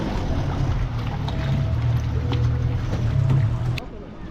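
A 3-seater speed boat on a lake at Pykara near Ooty throbs with a steady low engine rumble and wind noise, with voices talking faintly underneath.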